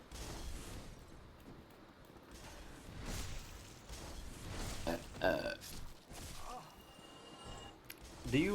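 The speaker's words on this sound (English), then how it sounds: "Do you know not to attack a man when he's burping?" A man's loud, drawn-out burp in a Dark Souls game session, rising near the end amid game creaks and clatter, with talk around it.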